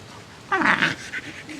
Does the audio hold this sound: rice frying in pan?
no